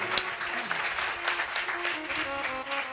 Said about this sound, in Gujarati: સંતો પધાર્યા છે, આપણે સંતોને તાળીઓથી વધાવીએ.